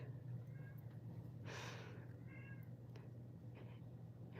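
A house cat meows for a treat, giving a few short, fairly faint mews and a breathy snort over a low steady indoor hum, with no talking.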